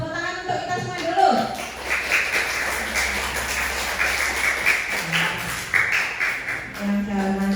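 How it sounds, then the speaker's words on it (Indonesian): Applause and clapping from children and an audience at a Muharram gathering at a Quranic school, a steady dense patter sustained over several seconds with voices mixed in. "Tepuk tangan untuk kita semua dulu."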